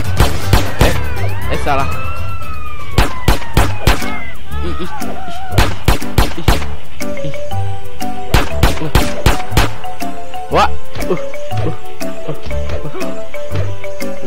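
Rapid gunfire in GTA with CJ, as loud sharp shots ring out over sirens and busy game action. A brief spoken word is heard.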